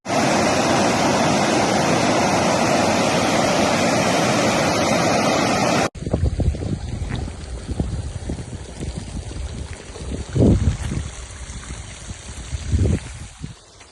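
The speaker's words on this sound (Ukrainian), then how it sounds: "Вулиці міста починають стрімко підтуплювати." Floodwater rushing through city streets after a heavy rainstorm with thunder and strong wind, a loud, steady roaring wash that abruptly drops to a quieter churning flow with splashes and bursts of turbulence.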